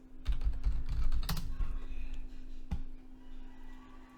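Typing on a computer keyboard while entering food into a fitness tracking app, a quick close burst of key clicks followed by a few scattered taps over a steady low hum.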